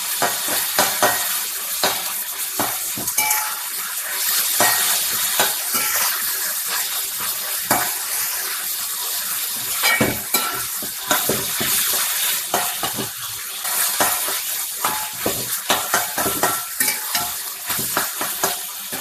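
Onions sauté with rock salt in a pan for a simple curry, a continuous loud sizzle with frequent scraping and clinking of a spoon stirring close by.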